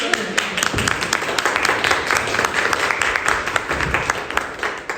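An audience claps for a perfume team at a Givaudan fragrance presentation, a continuous round of applause with dense, sharp hand claps and faint voices underneath.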